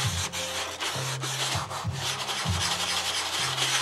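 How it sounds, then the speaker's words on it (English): Hand sanding wing cowl blocks on a Windy U Master 807 model aircraft, a close, steady rasping scrub in repeated back-and-forth strokes with a rhythmic pattern, no voices. "this is going to be part of Joe's final sanding, but I just wanted to catch any of these that are sticking up hard now"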